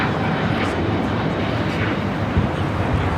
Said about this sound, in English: China Airlines Flight 5 taking off to Taipei on the A350 900